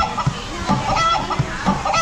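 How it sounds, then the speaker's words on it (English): Recorded chicken clucking from Goofy's piano at Disneyland, a series of short clucks repeating in a steady rhythm over busy park background noise. "So that's always chicken."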